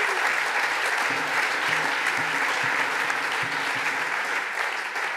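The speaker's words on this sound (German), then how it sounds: "Ich freue mich, dass ihr da klatscht" Dense, continuous audience applause fills a hall at a party conference, loud and steady throughout with faint voices underneath.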